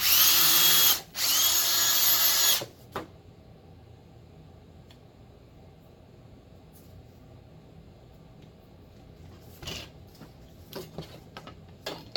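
A loud power drill boring with a pipe nipple instead of a drill bit whirs in two short bursts with a brief break between, then stops, leaving quiet room noise and a few small clicks.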